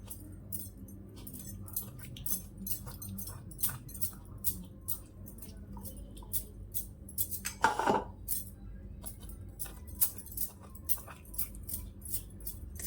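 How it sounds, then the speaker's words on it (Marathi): Spoon scooping the flesh out of a ripe muskmelon, making repeated soft, close scraping clicks and light clinks in an irregular rhythm, with one louder scrape midway. "याचा गर काढताना फक्त चमच्याने काढायचं आहे"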